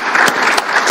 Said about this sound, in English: Can I just ask you to join me in showing our appreciation for the panel with a round of applause?